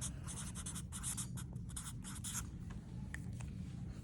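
Chalk pastel scraping and scratching across paper in steady, close strokes, a dry rasping texture that rises and falls with each pass and carries on without any voices.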